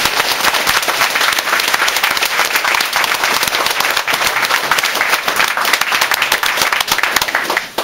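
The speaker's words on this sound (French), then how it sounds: "j'aimerais ça qu'on l'applaudisse très fort" A crowd at a book launch applauds loudly and continuously for about eight seconds, dense fast clapping with no talk over it, fading slightly at the very end.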